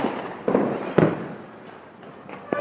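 Diwali fireworks bursting outdoors in a few sharp, separate bangs at moderate distance, with crackly rumble trailing between the blasts.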